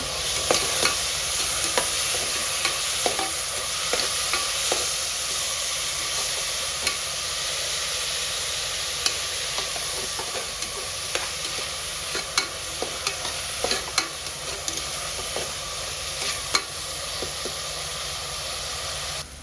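Onions and tomatoes sautéing over a high flame for a beef dish, with green chillies in the pan: a steady, close frying sizzle and hiss, broken by repeated scrapes and clinks of stirring, heard alone.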